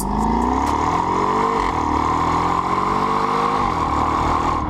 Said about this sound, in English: these engines are known for being very crackly and growly